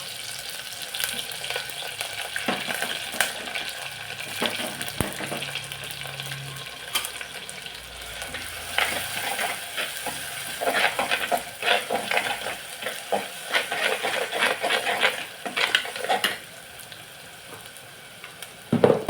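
Curry leaves dropped into a hot pan, a crackling sizzle that swells and spatters with bursts of popping, steady and close, without speech.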